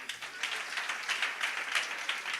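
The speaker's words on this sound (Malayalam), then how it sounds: "നല്ലൊരു കൈയടി." Audience applause at a children's church program, a steady wash of many hands clapping at moderate, fairly distant level throughout, with no talk over it.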